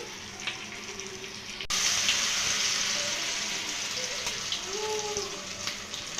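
Rice flour snacks dipped in batter deep-fry in hot oil with a steady close bubbling sizzle that swells louder after a brief click partway through, without talk.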